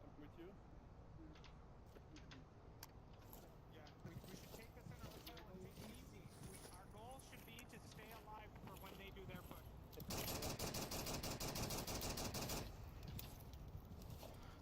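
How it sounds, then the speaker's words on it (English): Gunfire in the VR shooter game Onward during a competitive scrim: scattered shots beneath a voice talking, then a dense, louder burst of rapid fire lasting a couple of seconds before easing off. "Shots already fired."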